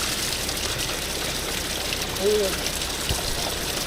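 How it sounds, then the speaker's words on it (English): Natural spring water flowing from rock, a steady, broad rushing wash running close and unbroken throughout, with a brief voiced sound rising near the middle. "this is the nice, pure, natural spring water. Flowing from the rock"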